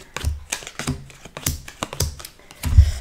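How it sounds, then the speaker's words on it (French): Tarot cards are laid down one after another on a table during a reading, giving a string of sharp, close taps and flicks in an uneven rhythm, with no talk. "Je pose les cartes et on y va."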